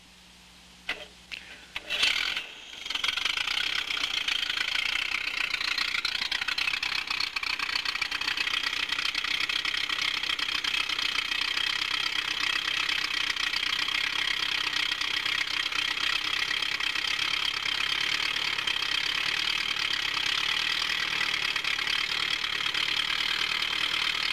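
Small aircraft engine with a Posa carburetor idling steadily and loudly at close range for a long stretch during carburetor tuning, after a few brief clatters at the start.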